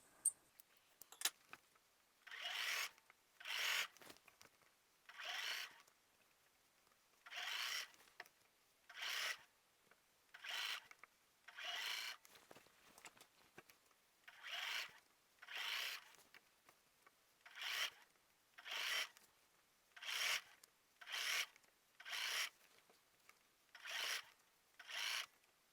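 Scissors trim loose threads on a machine-quilted binding, giving about twenty short, faint snipping bursts at an uneven, unhurried pace with quiet gaps between them.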